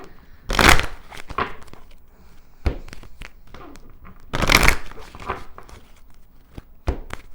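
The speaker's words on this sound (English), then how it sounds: "now we're going to take out other oracle cards here" Oracle cards are shuffled by hand in two loud riffling bursts, separated by softer scattered card handling and taps, close to the listener.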